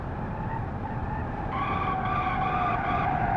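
A Lada VAZ in BeamNG.drive sliding into a skid, a steady engine drone joined midway by a rising tire squeal that holds to the end, loud and continuous with no speech.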